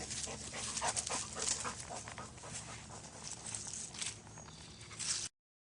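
A dog pants quickly and rhythmically close by, soft and quiet, with light pattering steps mixed in and no voices.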